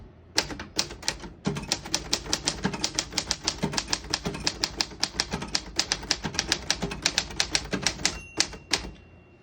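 Rapid typing on a 1946 Remington vintage desktop typewriter, a dense run of sharp mechanical key strikes at a steady fast rhythm, close and loud, ending with a carriage sound.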